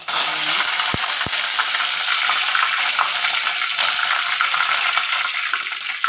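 Mustard seeds and curry leaves sizzle loudly in hot oil, a steady dense crackle throughout, with two sharp clicks near the start and no voices.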